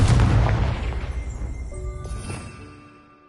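The Confringo fire spell from Hogwarts Legacy, played on PS5 Pro, goes off in a heavy booming blast that rolls and fades out over a few seconds, with a few bright tonal shimmers in the tail.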